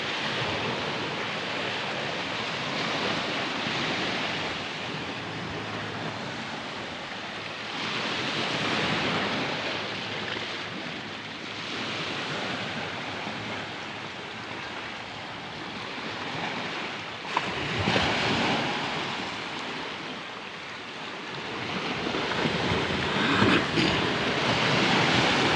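Strong sea waves churned up by Typhoon Kristine make a continuous broadband roar with slow swells of surge and wash, close and fairly loud, with no talk over it.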